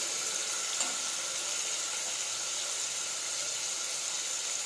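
Cumin seeds sizzle in hot oil for a brinjal curry, making an even, unbroken hiss that stays at one level throughout, with no voices.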